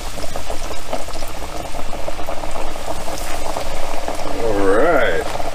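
Hot oil heats in a pot for frying beer-battered perch, giving a continuous bubbling, seething hiss that carries on steadily throughout, with a brief swooping whistle-like tone near the end.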